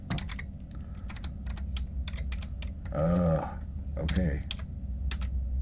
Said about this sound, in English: This is where typing happens, folks.